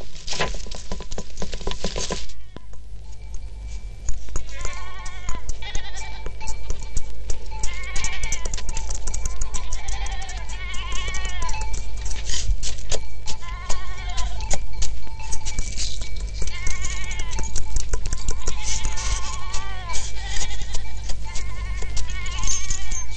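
A herd of goats and sheep bleats repeatedly, many calls overlapping near and far over a steady low rumble, after a short burst of noise at the start; no talk.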